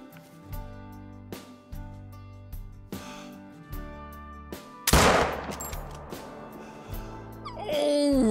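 A rifle shot at a red deer in the hunting video game Call of the Wild: one loud, sharp gunshot bursts out midway over a background of steady rhythmic music, followed by a fading tail.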